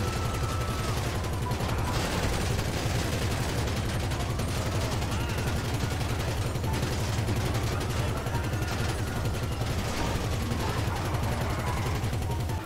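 Sustained gunfire in the GTA Online video game, dense rapid bursts of shots running without a break for the whole stretch, loud and close.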